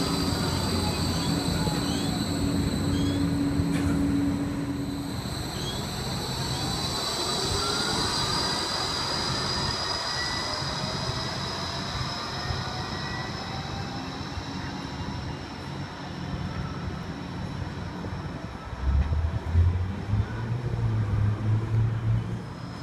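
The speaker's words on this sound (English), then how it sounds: "The first of the G-Link trams, number one, arriving for a Broadbeach South service." G-Link light rail tram number one arrives at a Surfers Paradise station for a Broadbeach South service, with a long, steady rolling rumble, thin wheel-squeal tones drifting over it and a heavier low clunking as it slows near the end.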